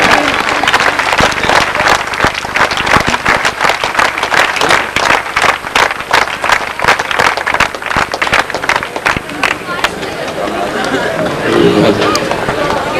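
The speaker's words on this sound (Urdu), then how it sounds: "تالیوں سے ان کا استقبال کیا جائے" An audience applauds to welcome a speaker at a gathering in Karachi, dense, lively clapping that stays loud and steady before thinning out near the end.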